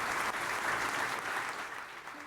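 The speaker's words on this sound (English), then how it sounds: "Huge round of applause for all of you." An audience of company employees claps in a continuous, dense round of applause, steady and fairly close, easing off slightly toward the end with no speech over it.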